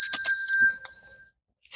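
A bright bell rings a few quick times up front, its clear tone lingering before fading into quiet, then a short thump lands at the end; no voices accompany it.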